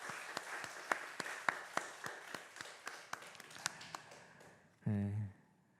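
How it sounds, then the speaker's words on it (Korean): A church congregation claps together at a Sunday worship service, a steady run of moderately loud handclaps lasting several seconds before a voice speaks briefly at the end. "우리 하나님 앞에 영광의 박수 올려드립시다"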